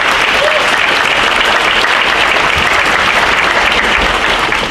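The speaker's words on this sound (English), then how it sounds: "Let's give all of them a round of applause." Loud, dense applause fills an honors night awards ceremony after a round of division program awards, a steady roar of many hands clapping continuously from start to finish.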